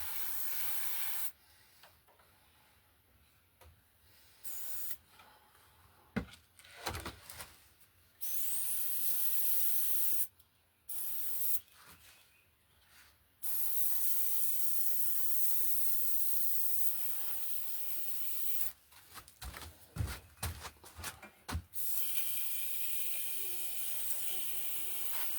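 An airbrush hisses out paint in bursts across a plaster and foam Jason Voorhees wall hanger, dusting pocked areas with a dirt effect; the steady close spray starts and stops repeatedly, with brief quiet gaps between passes.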